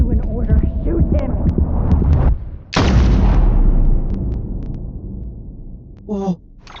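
A single loud, sharp gunshot in the Death Stranding video game rings out after tense voices, then decays into a sustained rumble that fades slowly.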